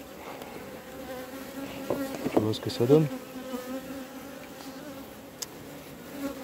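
Honeybees buzz faintly around a small hive, a soft continuous insect hum with a few louder passes close by; someone speaks in French for a moment midway.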